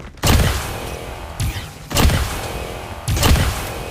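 Shotgun blasts in Call of Duty, three loud, heavy booms spaced about a second apart with a softer mechanical pump sound between them.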